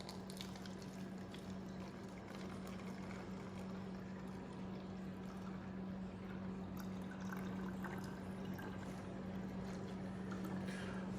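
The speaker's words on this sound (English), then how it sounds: "and you're gonna fill it up with water." Water being poured from a container into a plastic soda bottle on a laboratory bench, a steady close-up stream with a constant low hum underneath and no talking.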